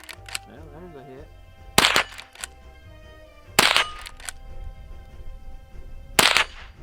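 Three sharp shots from a Henry lever action .22 rifle fired at a target 30 yards away outdoors, spaced about two seconds apart, each followed by a brief ring, with quiet background between.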